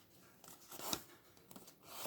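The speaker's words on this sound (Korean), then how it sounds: "저는 그냥 안전하게 손으로 자를게요" A package being torn open by hand, heard as a few short, soft ripping bursts, close by and quiet.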